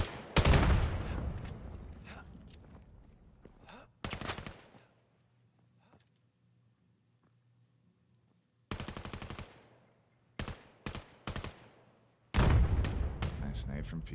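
Gunfire and grenade blasts from the VAIL VR shooter during a competitive esports finals match: loud broadband bursts and rapid volleys separated by near-silent gaps, with a low steady hum beneath.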